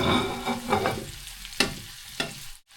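Spring onions, garlic and noodle ingredients stirred in a hot pan, with a few distinct scraping strokes over a soft sizzle, close and clear, ending abruptly, no voices.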